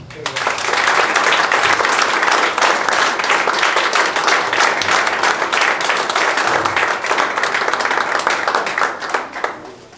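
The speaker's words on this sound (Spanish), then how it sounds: "que se lo reconoce con un caluroso aplauso" Warm applause from a university audience, honoring a speaker at a lecture on the Mexican municipality; dense, loud clapping sustained for about ten seconds before easing off at the end.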